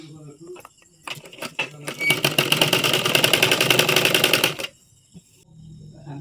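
Sewing machine running a steady, loud stitching burst of a few seconds across a chador-mekhela garment, preceded by short stop-start runs and ending abruptly into quiet.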